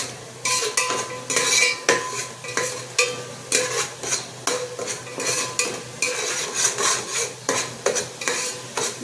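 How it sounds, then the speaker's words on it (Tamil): Biryani masala sautéing in oil in a pan for Chettinad-style chicken biryani, with a steady sizzle under repeated scraping and clinking stirs of a metal spoon against the pan, close and fairly loud, no talking. "எண்ணெயிலே நல்லா வதக்கிக்குவோம்"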